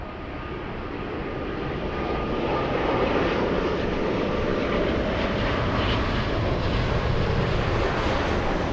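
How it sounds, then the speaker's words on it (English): A Lufthansa airliner, flight 452 from Munich, takes off from runway 24 left at LAX, a loud, steady broadband jet roar that swells slightly and holds throughout with no voices. "Lufthansa 452, flying in from Munich. Quick takeoff runway 24 left"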